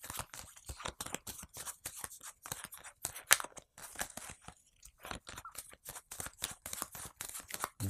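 Game cards from a hand are shuffled on a tabletop during a board game, a quick series of crisp close snaps and riffles repeating in rapid bursts, with no talking.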